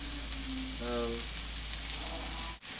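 Onions fry and caramelize in hot oil in a pressure cooker pot for pot roast, a steady close sizzle with light stirring clicks, while a voice briefly sounds over it.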